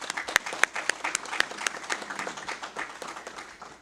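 Audience applause at a Baltimore County Police Department promotion ceremony, a room full of clapping with several sharp distinct claps standing out, lively at first then thinning and fading over a few seconds.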